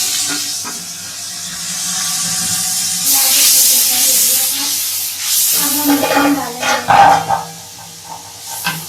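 Water poured into browned onions in a cooking pot before the lid goes on bursts into a loud steamy hiss and sizzle, surging after a few quiet seconds and crackling unevenly before fading.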